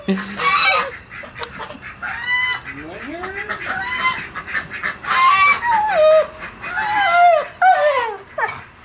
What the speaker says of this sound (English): Goose is so noisy.